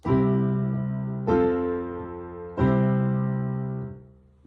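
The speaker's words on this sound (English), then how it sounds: "Now, plagal is known as the church cadence." Three sustained chords of a plagal cadence struck one after another on a keyboard, each ringing out and fading, the last settling as a gentle resolution.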